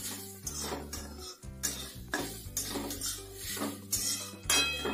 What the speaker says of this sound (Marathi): छानपैकी परतून घ्यायचा आपला खोबऱ्याचा किस